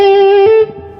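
A blues lick in G played on an electric guitar with a raked attack, a sustained distorted note ringing loudly before dropping off into a quieter trailing note.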